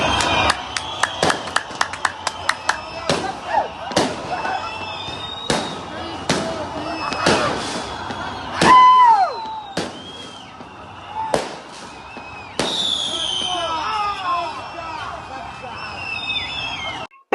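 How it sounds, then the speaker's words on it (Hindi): Firecrackers and fireworks go off at a street celebration after the Israel–Gaza ceasefire, a rapid string of sharp cracks followed by scattered louder bangs, with whistles and crowd voices and shouting throughout. "किस तरह से पटाखे बजाए गए, आतिशबाजियां की गई, देख सकते हैं आप इन तस्वीरों में।"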